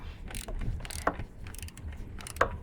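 A torque wrench set to 25 newton meters tightens the sump plug on a Holden VF Commodore during an oil change, giving quick ratcheting clicks close by, with two sharp click peaks standing out from the steady rasp.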